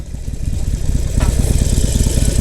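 Motorcycle engine running close up at a steady, throbbing low rumble while the rider pulls the clutch and shifts down a gear, with a brief rise in pitch partway through.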